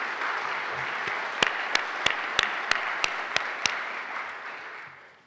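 Audience applause at a public conversation event on democracy and climate change, a steady wash of clapping from a seated crowd with a few sharp individual claps standing out before it fades.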